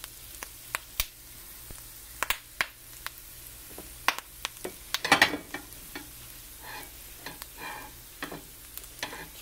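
Crown tipped coral mushroom sautés and simmers in a pan, soft sizzling under a series of sharp clicks and scrapes as it is stirred, with a busier cluster of stirring noises midway.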